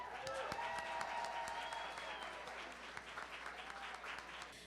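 Sustained clapping from a reception crowd honoring Boston police officers. Dense, mid-distance applause runs throughout at a steady level, with a voice speaking over its opening moments before the clapping tapers slightly.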